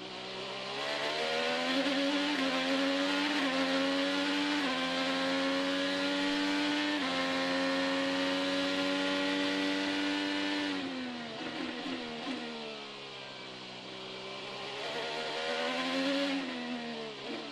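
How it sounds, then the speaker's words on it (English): Onboard a 2021 Arrow McLaren SP Chevrolet IndyCar at the Detroit Grand Prix street race, the engine howls loud and steady at high revs, dips briefly as the car slows, then climbs again. "There's Pato Award in the orange and black Arrow Chevrolet. Let's go for a ride."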